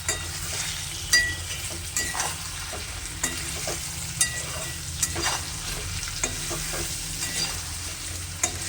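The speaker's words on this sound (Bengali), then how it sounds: "এখন ভালোভাবে নেড়েচেড়ে নেব।" Garlic green chilli chicken fries in a pan as ground cumin and coriander are stirred in. A steady, loud sizzle runs throughout, broken by repeated scraping and clinking stirring strokes.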